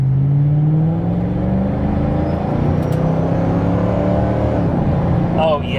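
Ford Mustang GT driving slowly around a corner from inside the cabin, steady engine hum and road rumble with a slight rise in tone, loud and continuous.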